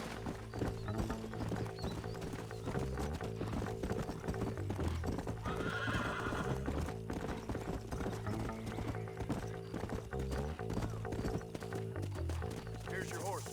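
A horse in the Western video game Red Dead Redemption trots with steady clip-clopping hooves and lets out a whinny. The sounds are mixed with a dense, continuous musical background that runs throughout the long stretch.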